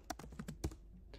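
Several quick keystrokes clack on a computer keyboard up close, an uneven burst of taps followed by a brief pause and one last press.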